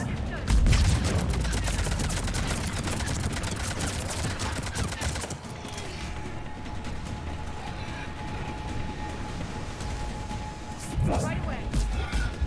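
Sustained cover fire from a firefight in Mass Effect 3, dense rattling bursts of gunshots running loud and continuous, thinning slightly midway, with a steady tone and voices talking over the action.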